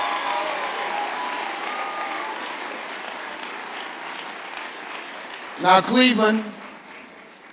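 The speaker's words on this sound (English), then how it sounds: "Give yourselves a real warm cheer and a round of applause." Audience at an Urban League State of the Urban League address in Cleveland gives a brief burst of cheering and applause near the end, after someone speaks at length over a low crowd murmur.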